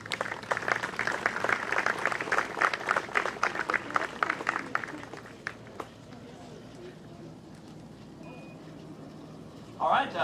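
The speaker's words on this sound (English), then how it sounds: "Another big round of applause." Outdoor crowd at the Keeneland Concours d'Elegance car award gives a big round of applause, loud steady clapping for several seconds that thins and fades into open-air background, with a brief voice near the end.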